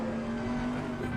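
A Bentley GT3 race car in Assetto Corsa Competizione drones at high, steady revs along the Kemmel Straight at Spa, a strong sustained engine tone with no talk over it.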